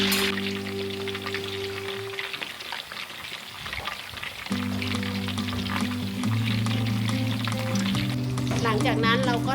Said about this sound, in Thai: ไป็นไฟกลางนะคะทอดให้หนังพอสุกค ่ะเ